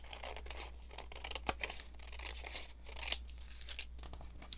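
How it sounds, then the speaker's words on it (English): Scissors cutting paper scraps to envelope size for a junk journal pocket, heard as faint, close, irregular snips and soft crinkles of paper over a quiet background. "we're just going to go ahead and cut this the size of your envelope"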